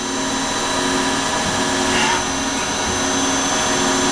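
A Tsugami PL3 CNC gang tool lathe with Fanuc control hums steadily at constant surface speed, its spindle whine shifting slightly in pitch as it slows and picks up, close and continuous with no voices.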